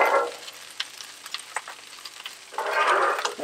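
Eggs frying in butter on a Blackstone flat-top griddle: a loud sizzling burst at the start, quieter crackling and spitting, then a second strong sizzle swelling near the end as food hits the hot surface.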